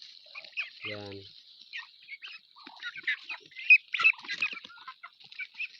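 Ducks on a farm keep up a busy chatter of soft quacks and chirps at close to middle distance, with a brief spoken word in between.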